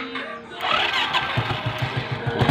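A Suzuki 115cc motorcycle's engine catches after a brief start attempt and settles into a steady, close, rapid putter with no voices.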